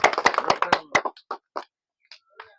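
A small group claps for a player in a bottle-matching party game, a quick burst of claps that thins out into a few scattered, fading ones.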